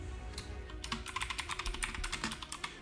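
Quiet typing on a computer keyboard, a steady run of light clicking keystrokes close up, with no talking.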